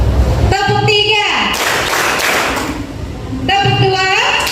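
A schoolroom of pupils claps in unison for a call-and-response ice-breaker, a short, busy wash of hand claps sitting between the teacher's spoken counts.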